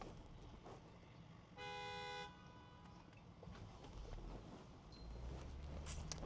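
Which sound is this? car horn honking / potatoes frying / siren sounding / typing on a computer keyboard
car horn honking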